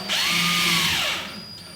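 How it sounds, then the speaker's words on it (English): A power drill set to its lowest clutch setting drives a screw through a light panel into sheetrock for a temporary grid installation: one close, loud, rising whir lasting about a second before it winds down. "I've set the clutch on my drill at its lowest setting. I don't want to strip the screws because the screws are only going into the sheetrock"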